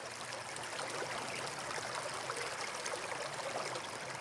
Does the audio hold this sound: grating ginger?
no